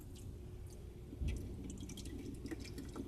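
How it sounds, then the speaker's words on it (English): Engine oil drains from a 2005 Ford Focus during an oil and filter change, making a steady trickling, dripping flow into a drain pan with a few splashy bubbles. "See the oil coming out of there?"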